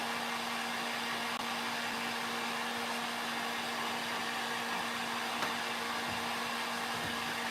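A heat gun blows steadily to warm a glued seam and activate the glue, a constant even roar with a faint tonal hum, close and alone.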